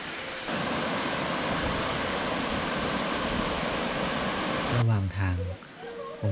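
A waterfall along a walking trail at Phu Kradueng gives a steady, dense rushing roar close by for most of the stretch, and a voice speaks over it near the end.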